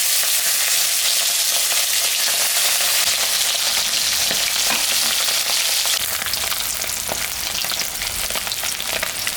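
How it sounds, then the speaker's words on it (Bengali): Salted, turmeric-rubbed kokila fish frying in hot oil gives a loud, steady, crackling sizzle that rises slightly toward the end, with no voices. "মাছটা আমি এখন ভাজবো।"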